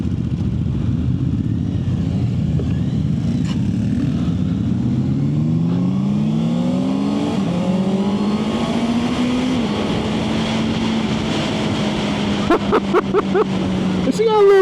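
Honda CB650R motorcycle engine idling in neutral, then revving up through rising pitch and settling back to a steady idle, close and loud, with a clutch clunk and brief clicks near the end; someone talks over it.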